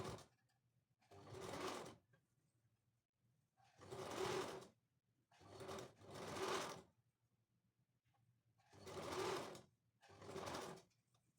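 A domestic sewing machine stitches black lace onto a full-sleeve princess-cut blouse, running in five separate bursts of steady, fast needle clatter about a second long each, with quiet pauses between them and no talking.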